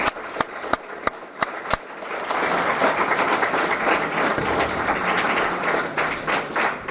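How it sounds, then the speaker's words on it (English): An audience at a pathway celebration event breaks into applause: a few single sharp claps at first, then a dense, sustained round of clapping that swells and tapers slightly, heard from within the crowd. "give yourselves a round of applause for that"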